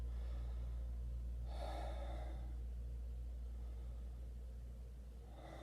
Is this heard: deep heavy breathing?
yes